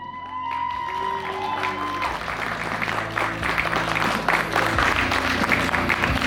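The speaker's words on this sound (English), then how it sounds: "Round of applause for" A strongman competition crowd breaks into applause for strongman John Hack, building from tonal background sound into a loud, sustained roar of clapping with some cheering.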